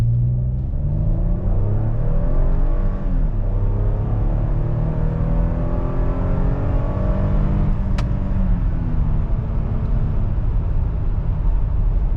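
A 2015 Toyota Highlander XLE with a conventional automatic, not a CVT, and over 100,000 miles accelerates hard from 0 to 60 mph. Heard from inside the cabin as a steady, loud engine drone with rising harmonics as it climbs through the gears, with no talking.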